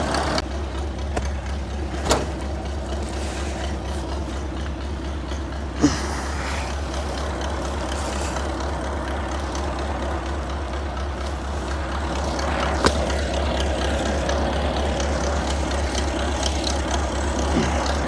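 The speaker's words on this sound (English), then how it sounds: "I'm using the Farm All Cub with a little sled that I made some time ago to pull hay bales around." A Farmall Cub tractor pulls a small homemade hay bale sled around a small-scale farm, its engine a steady low drone throughout, broken by a few sharp clanks, with no talking.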